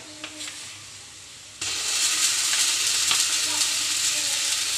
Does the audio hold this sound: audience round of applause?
no